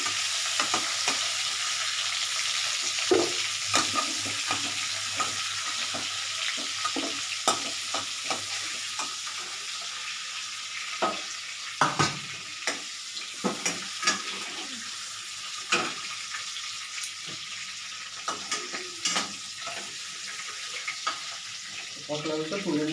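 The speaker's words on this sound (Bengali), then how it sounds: "পটল আলুটা তুলে নিলাম, মানে কাঁচা গন্ধটা যাতে চলে যায় সেই জন্য একটু ভেজে নিলাম।" Potatoes and pointed gourd sizzle in oil in a pan over lowered gas, a steady frying hiss broken by repeated clattering stirs and scrapes of a spatula, close and fairly loud throughout.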